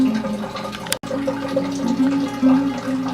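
Water runs steadily through a DIY hydroponic flood table on shelving, a continuous close gurgling flow with a brief dropout near the start and no talking.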